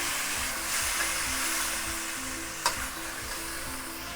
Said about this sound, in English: we'll add the 2 soy sauce. Stir fry quickly.